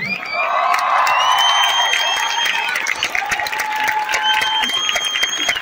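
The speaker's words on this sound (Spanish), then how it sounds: "Que este aplauso llegue hasta nuestras comunidades mayas de Yucatán" Applause and cheering from a large audience at a corporate Enciéndete 2023 event in Mexico, dense clapping with whoops and shouts rising above it, steady and loud throughout with a voice calling out over the crowd.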